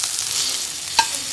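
Onions sautéing in a pan give a soft, continuous close sizzle, with one short sharp clink or scrape about a second in.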